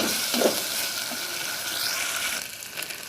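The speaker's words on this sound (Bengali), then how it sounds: "পেঁয়াজগুলো হালকা ভাজা হয়ে আসছে, এর মধ্যে আমি আদা রসুন বাটাটা দিয়ে দিব" Onions with ginger-garlic paste fry in a pan, a steady close sizzle with brief stirring scrapes and no talk.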